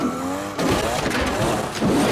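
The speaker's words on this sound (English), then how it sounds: "I like the way his car sounds." A drifting car's engine revs hard over squealing, skidding tires, loud and close. Rising engine tones give way to a rough burst of tire noise and then another surge.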